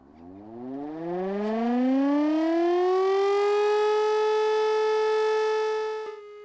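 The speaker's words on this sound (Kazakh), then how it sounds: "Мондый тавыш сиреналары бүген бөтен Татарстан буенча эшләде" A civil defense warning siren sounds during a scheduled test in Naberezhnye Chelny, Tatarstan. The tone rises in pitch over about two seconds, then holds a loud, steady wail before cutting off abruptly.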